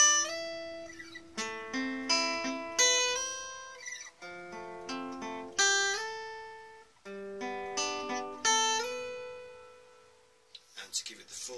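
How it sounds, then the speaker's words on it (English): Electric rhythm guitar plays the verse of a rock song, clean, rhythmic chord stabs with slides on the top string, bright and close, with short pauses between phrases and no talking. "Then we're using a slide on the top string where it's the major chords."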